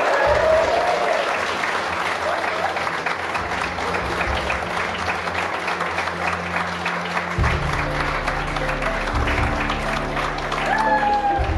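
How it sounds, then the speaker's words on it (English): Wedding guests at a rustic farm wedding in Lincolnshire clap for the newly married couple, a continuous round of applause heard under background music with a tonal melody and a voice faintly present. "Give them a big round of applause"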